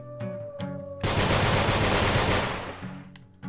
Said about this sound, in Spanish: los disparos te empujan